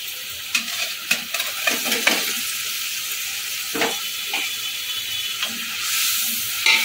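Fried paneer cubes and two whole green chillies go into a simmering paneer kosha gravy, giving a steady background sizzle broken by several sharp stirring clicks and scrapes of a utensil against the pan, close and with no talking.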